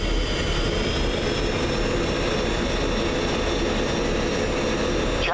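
An F-16 jet engine idles before takeoff in a flight simulation game, a loud, steady roar with a high whine throughout, continuous and without voices.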